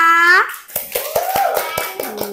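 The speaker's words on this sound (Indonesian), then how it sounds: "Tepuk tangan dulu untuk semua" Several sharp hand claps ring out in an uneven series alongside children's voices in a classroom, close and moderately loud.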